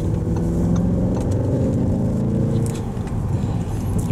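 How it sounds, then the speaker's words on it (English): A low, rumbling twin-turbo V8 exhaust note drones steadily from inside a moving 2024 Audi S8, muffled and continuous, with faint road noise and no speech. "Get a little bit of the exhaust note that filters in."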